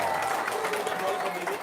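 A studio audience claps briefly for a guest on an Indonesian talk show, a dense, steady patter of hands with voices mixed in.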